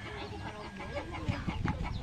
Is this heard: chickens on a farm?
yes